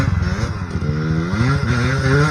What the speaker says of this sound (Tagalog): lakas ang motor!